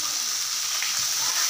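Chopped onions with a little salt sautéing in oil in a pan, a steady close sizzle with faint stirring, alone without talk.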